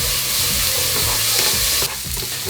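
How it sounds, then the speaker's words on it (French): Half an onion and rice frying in a little olive oil in an ovenproof pan, a loud close sizzle with scraping stirring strokes, the hiss dropping slightly near the end. "Dans une poêle qui va au four avec un petit peu d'huile d'olive, on va faire revenir le demi-oignon et le riz."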